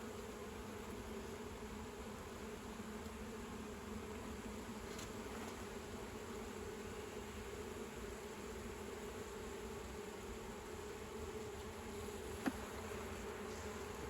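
Honey bees swarm and buzz around a hive frame in a steady, dense drone that holds at an even level throughout, close and continuous, with no talking.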